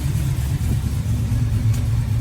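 A 1978 Dodge W150 Macho Power Wagon engine runs steadily nearby, a deep, even rumble with a throbbing low note and no voices.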